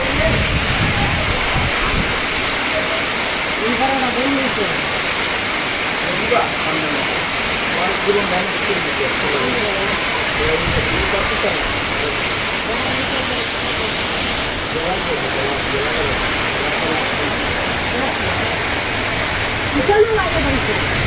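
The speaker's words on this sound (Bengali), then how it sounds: "কত বড় বড় শিলাই বৃষ্টি" Large hailstones pound down in a heavy storm over Habiganj town, Bangladesh, a loud, steady wash of rattling impacts that never lets up, with voices faintly mixed beneath it.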